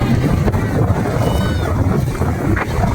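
Steady, loud wind buffets the microphone at Tithal beach near Valsad, Gujarat, a continuous low rumble with faint surf underneath.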